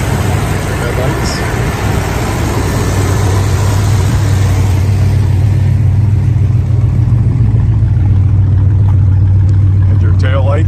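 A muscle car with dual exhaust runs close by, its loud, steady low rumble swelling briefly as if revved, with people talking faintly underneath.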